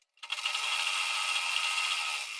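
Sewing machine running steadily while stitching a sleeve seam, a continuous fast mechanical whir that starts abruptly and holds at a constant close level with no talk.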